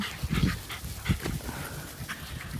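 Dogs playing fetch outdoors pant and huff close by in quick, uneven bursts, with faint whimpers and shuffling movement mixed in.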